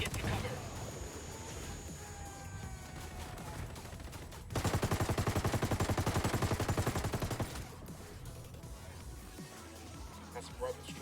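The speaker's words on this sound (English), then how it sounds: "That's brothers trading shots with the cartel" Video game gunfire in a firefight with cartel gunmen: one sustained burst of rapid automatic fire rattles out for about three seconds between quieter stretches with faint voices.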